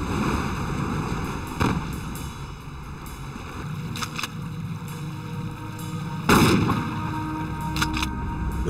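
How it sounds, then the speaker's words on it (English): Slugs are fired into a floating cooler: two sharp, loud reports stand out over a steady, low engine-like drone, with a few softer knocks between them. "sink the cooler by firing slugs into it"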